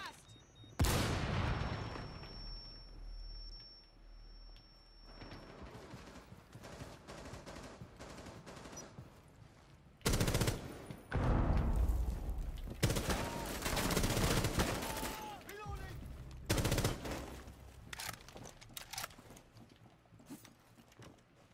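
Rainbow Six Siege gunfire, sharp bursts of shots and short rattling volleys scattered across a tense round, with quiet gaps between clusters and some voices in the background.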